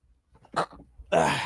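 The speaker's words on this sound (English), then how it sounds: "Sneezed." A single quick sneeze bursts out after a brief breathy intake, close and fairly loud, in an otherwise quiet room.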